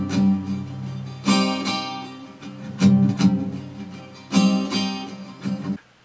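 Acoustic guitar strummed in a steady pattern, bright full chords with several louder accented down strokes standing out, played alone and close with no talking.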